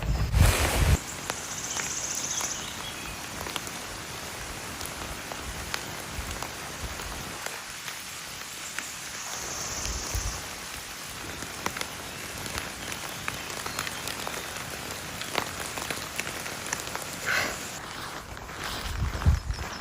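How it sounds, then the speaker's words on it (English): Steady rain falls outside a house in the countryside, a continuous close hiss of drops on surfaces that carries through the whole stretch with only a brief softer lull partway, and no talk over it. "Once the rain stops in the next few days"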